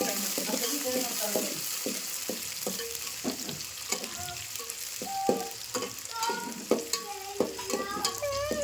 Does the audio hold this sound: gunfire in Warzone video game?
no